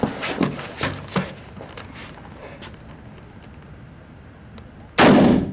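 Rifle fire from SIG firearms, including a SIG 510 / Stgw 57, during outdoor shooting training: several sharp, loud shots early on, a quieter stretch, then one very loud close blast near the end, with no speech.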